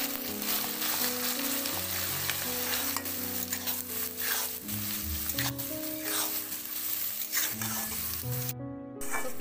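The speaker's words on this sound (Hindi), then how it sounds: "तो प्याज को अब ब्राउन होने तक अच्छे से भून लेते हैं" Chopped onions frying in hot oil for egg curry, a steady loud sizzle with stirring scrapes over a kitchen background, while melodic music plays throughout.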